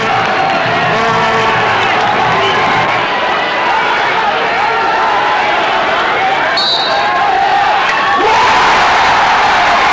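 Pakistani crowd at the 1994 field hockey World Cup final against the Netherlands, a loud continuous roar of cheering and whooping that stays dense throughout, with a brief whistle-like tone partway through.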